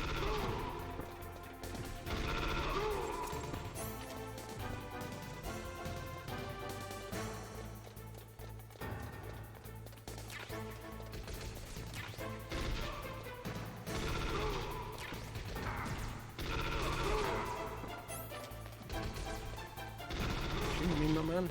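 Gunfire and impacts in the PS1 game Metal Gear Solid, repeated crashing shots and bursts over busy game music and effects, dense and continuous, with a voice talking at times.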